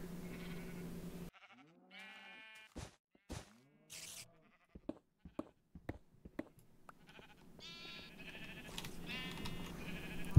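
Sheep bleat several times inside a pen in the video game Minecraft, the wavering calls clear and close, with short clicks and game sounds between them and no voices.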